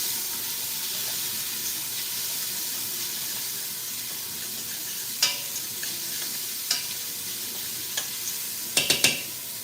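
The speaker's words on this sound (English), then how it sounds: "And let's just stir this up." A spoon stirs the fond in a pan where a chuck roast was just seared, a low steady sizzle and hiss with a few sharp scrapes and clicks toward the end, and no talking.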